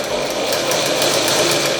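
A sewing machine runs steadily while stitching along a folded hem edge in a tailoring class, a close, continuous rapid mechanical whirr and clatter with no speech.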